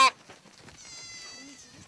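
A baby goat in the Gobi Desert bleats in a thin, wavering cry that rises and holds for about a second, close by, after a brief loud burst at the start, with no talk over it.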